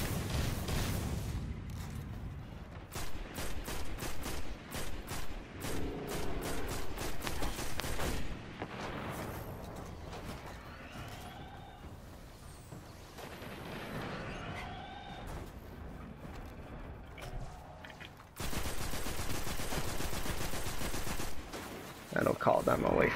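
Rapid bursts of gunfire from the video game Destiny Earth, in the Devils' Lair level, come as stretches of fast repeated shots with quieter gaps between them, and a dense loud volley near the end.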